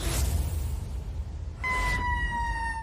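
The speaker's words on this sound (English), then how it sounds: "These sights and sirens are becoming all too common in Nova Scotia's Annapolis County" Emergency vehicle sirens at a wildfire in Annapolis County, Nova Scotia: a broad rumble of engines and wind, then a steady wailing siren tone cuts in partway through and holds, fairly close and loud.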